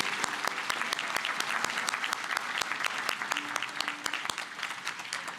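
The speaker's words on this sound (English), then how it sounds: "give a round of applause" An audience at a Columbus Rotary student service program applauds the students and their projects, a dense, continuous patter of many hands with a few crisp claps standing out.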